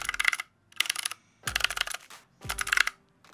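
Computer keyboard typing in four quick bursts of dense, crisp key clicks separated by short pauses, close and fairly loud with no voices.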